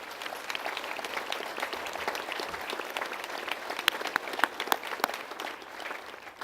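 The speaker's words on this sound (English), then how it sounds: "Let's give him a round of applause." Audience applause at Governor Cuomo's welcome-home event for the 10th Mountain Division: a dense, even patter of many hands, moderately distant and fairly soft, with a few sharper nearby claps toward the end.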